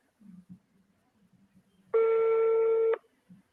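A telephone ring tone sounds once during a call, a loud steady burst of about a second, with faint low murmuring before and after.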